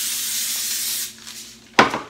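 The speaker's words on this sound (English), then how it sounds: "I'm going to spray it with a little Pam." Pam cooking spray is sprayed onto a sheet of parchment paper in a kitchen: a soft hiss at first, then a short, sharp burst of spray near the end, heard close with no talking.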